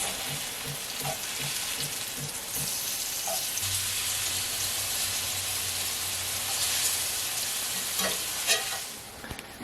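Pieces of tromboncino squash sizzle and fry steadily in a hot pan, a dense continuous crackle with soft scrapes and taps as they are flipped, and a low hum underneath.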